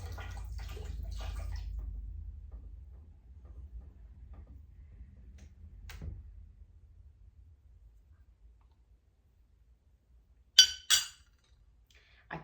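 Glass canning jars clink sharply as they are handled with warm milk, two close bright knocks near the end after a stretch of low rumbling handling noise and quiet.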